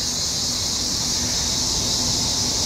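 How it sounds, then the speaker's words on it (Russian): Cicadas drone loudly near a river in Alanya, Turkey, as a constant high buzzing shrill that never lets up, close and dominant. "Слышите крики этих маленьких цикад?"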